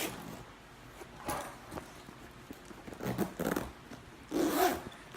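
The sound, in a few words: two-way zipper on a Filson Original briefcase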